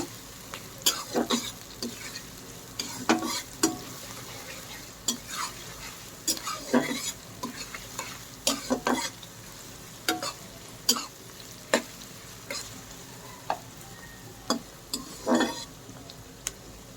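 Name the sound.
onions frying until light brown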